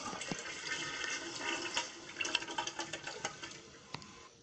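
A Kohler Wellworth classic toilet flushes in a Roblox campground restroom, a steady rushing swirl of water with faint gurgles and light clicks, fairly quiet and continuous throughout.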